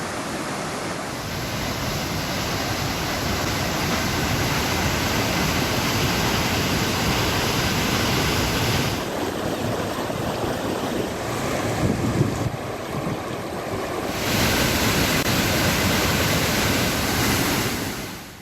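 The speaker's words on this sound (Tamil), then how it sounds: "அணையின் சிறிய மதகுகள் வழியாக திறக்கப்பட்ட தண்ணீர் சீறி பாய்ந்து வெளியேறியது" Water from a dam's small sluice gates roars out in a continuous loud gush, a steady broadband rush with wind buffeting the microphone and no talk.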